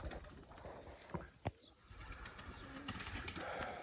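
Pigeons coo softly in a loft in Siyazan, Azerbaijan, with low, murmuring calls spread through a quiet, hissy room, a couple of sharp knocks standing out near the middle.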